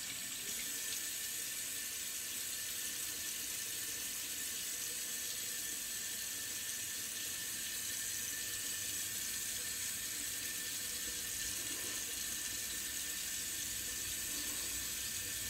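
Tap water runs steadily into a sink to rinse out a shaving brush, a continuous even hiss and splash lasting throughout with no pauses.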